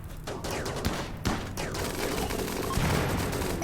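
Machine gun fire in a RimWorld colony raid against pirates: rapid overlapping bursts of gunfire rattling continuously for several seconds, loud and close, with no talking over it.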